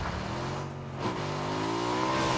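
A motorcycle engine revs in the video game PUBG, a steady mid-distance drone that rises in pitch as it accelerates, with no voices.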